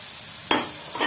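Chopped tomatoes hit frying ginger-garlic in a hot pan, setting off a sudden burst of sizzle followed by a second, smaller spurt of frying hiss within about a second.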